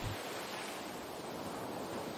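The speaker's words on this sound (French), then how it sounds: "Vous décidez de vous allonger un moment et de vous laisser bercer par le bruit des vagues." Ocean waves washing onto a sandy beach, a soft, continuous surf wash with a breezy hiss, steady and even across the short stretch.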